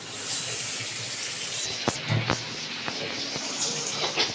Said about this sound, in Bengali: একটু একটু একটু করে জল দিয়ে দিল